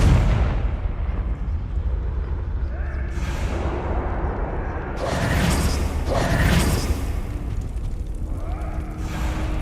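Hogwarts Legacy gameplay where a Confringo fire spell detonates, giving several rumbling blasts and crackling bursts over a low, constant mechanical game background.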